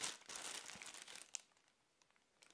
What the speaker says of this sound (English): And it's very light in weight and of course it's packaged in this clear plastic bag.